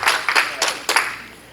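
A church congregation claps in a few distinct bursts, close and fairly loud, roughly four sharp waves of clapping within a second and a half before trailing off.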